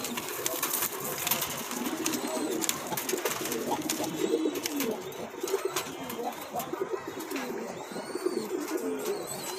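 Pigeons at a pigeon sale coo in soft, repeated, throaty bursts close by, mixed with scattered rustling and fluttering.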